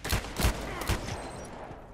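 Revolver shots fired in the shooter game Contract Wars: three sharp reports spaced about half a second apart, each with a short tail, close and fairly loud with no talk over them.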